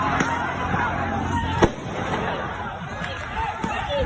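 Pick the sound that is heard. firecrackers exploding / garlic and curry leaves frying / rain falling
firecrackers exploding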